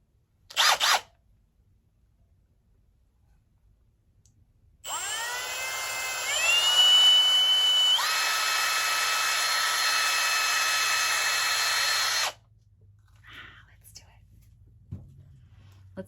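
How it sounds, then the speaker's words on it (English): A power drill bores a pilot hole into wood, its whine winding up and holding steady for about seven seconds before stopping, with short handling knocks before and after. "I'm gonna drill a pilot hole right here."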